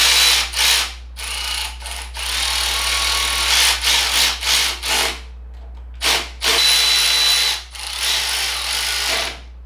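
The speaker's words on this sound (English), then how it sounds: "tighten them with a ratchet." A ratchet runs bolts down during a camshaft install on an LS-swapped Mazda Miata, giving close, loud bursts of rapid clicking separated by short pauses, with no talk.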